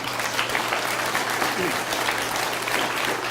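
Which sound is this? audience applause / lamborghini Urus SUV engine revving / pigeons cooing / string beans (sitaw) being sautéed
audience applause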